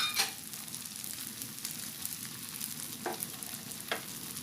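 Fresh tofu skin fries in hot oil, a steady bed of fine sizzling crackle with a few sharper pops and spatters standing out now and then, close and moderately loud throughout.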